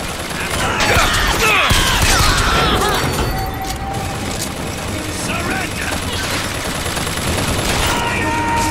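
Rapid gunfire in the video game BioShock Infinite, bursts of shots and booms crowding the whole stretch, loud and close with brief lulls, while someone talks over it.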